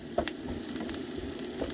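Onions frying in a pan over medium-low heat, cooked down until soft but still slightly chewy, give a steady, moderately quiet sizzle with a few small pops and stirring clicks.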